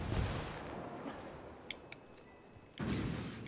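In Ghost Recon Wildlands, a frag grenade detonates in a muffled, distant-sounding burst, followed by a few faint clicks and then another low thud near the end.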